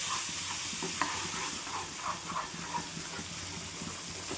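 Masala roasts in hot oil in a pan, giving a continuous bright sizzle and hiss close up, with soft scraping stirs through it and no talking.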